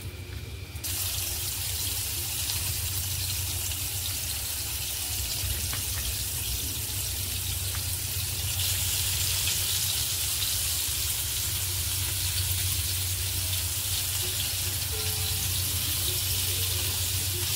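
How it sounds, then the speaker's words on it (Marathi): Rohu fish pieces sizzling in hot oil in a pan, a steady, loud, continuous hiss and crackle with no talking. "इकडे आपलं मस्त तेल गरम झाले, त्याच्यामध्ये असं एक पीस सोडायचं आहे"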